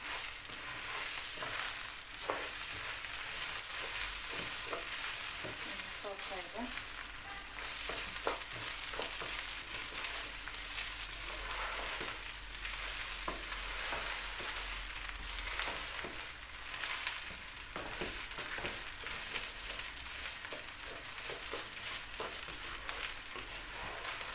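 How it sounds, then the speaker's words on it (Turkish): Egg noodles roast in butter in a pan with a steady, soft sizzle, while repeated scraping and stirring clicks continue throughout. "Aynı arpa şehriye pilavı gibi bu kavruluyor arkadaşlar"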